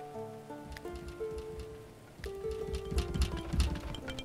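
Steady rain patters on surfaces in the medieval colony-building game Going Medieval, a soft, continuous hiss of drops beneath sustained musical tones that grows slightly louder toward the end.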